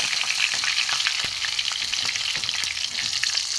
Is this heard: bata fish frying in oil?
yes